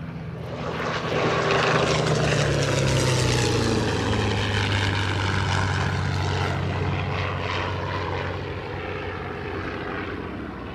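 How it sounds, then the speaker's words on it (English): A P-40 Tomahawk and an A6M Zero warplane make a pass, their propeller engines droning loudly as they approach, then fading slightly as they fly by, with no voices. "we're going to get another pass here from the Zero and the P-40 Tomahawk, inbound from the left"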